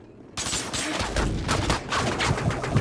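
Heavy weapon fire from a null cannon in the sci-fi shooter game Dust 514, a dense run of loud booming blasts and rattling shots that starts abruptly and carries on steadily without a voice.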